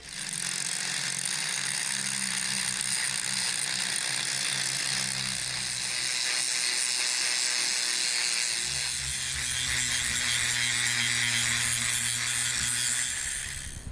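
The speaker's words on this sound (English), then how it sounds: "Just going to chamfer that out with the grinder." An angle grinder chamfers the edge of a steel part for a homemade hold-down clamp, giving a steady, close, harsh grinding hiss that runs unbroken for the whole stretch with a faintly rattling edge.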